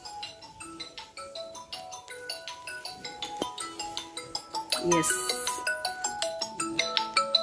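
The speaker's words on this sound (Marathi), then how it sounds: "बहुतेक क्लिनिकमधनंच फोन आहे" A phone rings with a melodic tune of repeated bright electronic notes in a steady rhythm, close and fairly loud, while a voice briefly speaks a single word.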